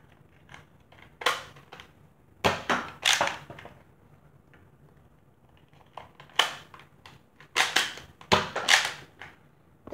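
Nerf Sharpfire blaster handled and reloaded, giving sharp plastic clacks and snapping priming strokes in irregular clusters, close and fairly loud, with brief quiet gaps between bursts.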